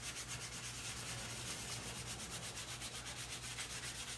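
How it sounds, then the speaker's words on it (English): Sandpaper rubbed over the wooden body of a hobo fiddle on a workbench, a continuous close scratchy rasp in quick back-and-forth strokes, quiet and steady with no talking. "I think I'll actually stuff it with this sandpaper."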